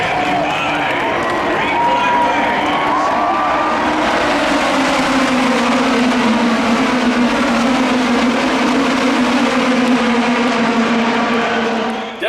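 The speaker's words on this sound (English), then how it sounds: "you saw NBC's official footage of the green flag start of the greatest race in the world" Race cars at the green flag start of the 2022 Indianapolis 500 roar past together in a sustained, loud engine drone over crowd noise.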